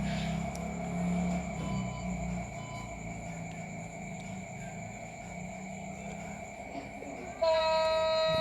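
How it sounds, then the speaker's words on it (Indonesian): A locomotive rolls along rails with a steady low rumble and sustained ringing tones, and a louder horn-like blast cuts in near the end. "Di sini lokomotif berjalan di atas rel."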